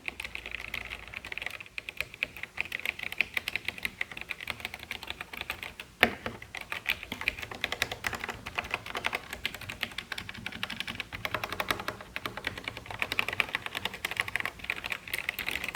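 Rapid clacky keystrokes on a Royal Kludge RK71 mechanical keyboard with chrome keycaps, steady and close, continuing without pause over a faint background.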